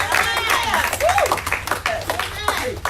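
A church congregation breaks into mixed clapping and lively voices, dense and fairly loud throughout, with cheering tones rising over the hand claps.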